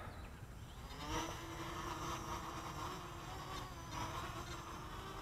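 A 3D Robotics X6 hexacopter on a 2200 mAh battery hovers under a heavy load, its rotors a steady, buzzing drone with a faintly wavering pitch, continuous and moderately distant.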